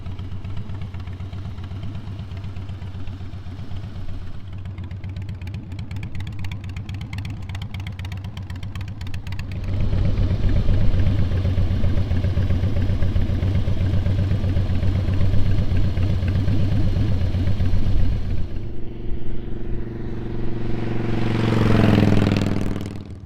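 A Harley-Davidson motorcycle engine idles steadily and close by, with a low, rumbling beat. It grows louder about halfway through, then shifts tone near the end as the revs rise.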